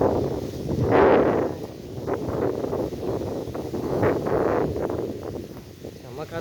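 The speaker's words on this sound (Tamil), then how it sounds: "செம்ம காற்று." Strong wind at a hilltop viewpoint buffets the microphone in rolling, swelling gusts that rise and fall across the whole span, loud and close, with faint rustling mixed in.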